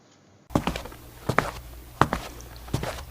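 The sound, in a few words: footsteps sound effect in a children's Bible story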